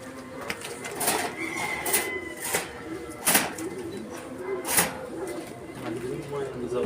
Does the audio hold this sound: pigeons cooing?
yes